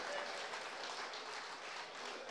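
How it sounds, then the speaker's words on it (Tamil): A crowd claps in a continuous, dense patter that holds at a steady level throughout, with a speaking voice faintly mixed in underneath. "கைதட்டை கேட்டு வாங்க வேண்டியிருக்கு."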